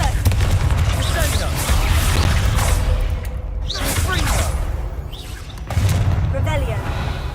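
Confringo fire spell blasts in Hogwarts Legacy: a dense run of whooshing, booming bursts with thuds that keep up through most of the stretch, loud and close, with a voice talking over them.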